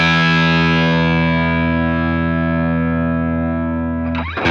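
Electric guitar through a Line 6 Catalyst 100 amp set to a dirty, distorted tone rings out as one sustained chord that slowly decays, ending with a burst of pick and string noise. No talking.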